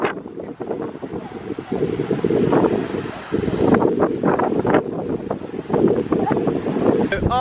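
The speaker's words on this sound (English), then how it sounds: "The water's a little bit rough today, but it is quite windy around here." Strong wind buffets the microphone beside rough sea water on the Barbados coast, a continuous roaring rumble that swells and drops in gusts, with occasional faint splashes breaking through.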